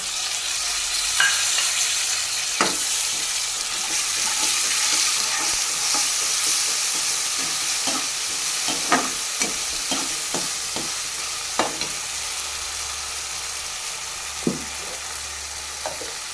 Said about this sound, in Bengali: এবার আদা রসুন বাটা, টমেটো বাটা এই সব মশলা দিয়ে আবারও ভালো করে ভেজে নেব